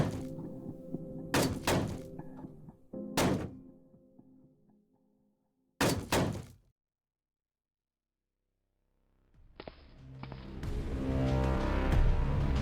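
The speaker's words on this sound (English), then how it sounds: "Something's banging on this door." Heavy repeated thuds strike a door in a zombie survival game, several dull bangs in uneven bursts, then a pause before a loud rising rumble swells in.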